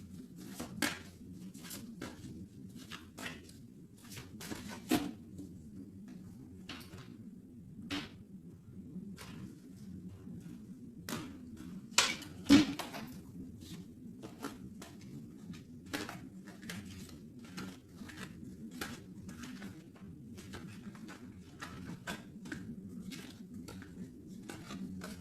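A deck of tarot cards is cut and handled, giving soft, scattered clicks and light taps at irregular intervals over a faint low background hum, with a small cluster of sharper snaps near the middle.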